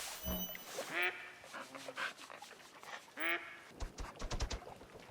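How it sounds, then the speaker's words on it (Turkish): Several nasal quacks from ducks in the video game theHunter: Call of the Wild, a few close calls spaced apart with brief rustling in between, fairly quiet overall. "Bu ördekler kondu"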